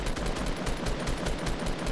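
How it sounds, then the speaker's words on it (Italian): An assault rifle in Fortnite fires in a rapid, even burst of shots, loud and close and continuous, with no voices. "Ultimi colpi, sparagli."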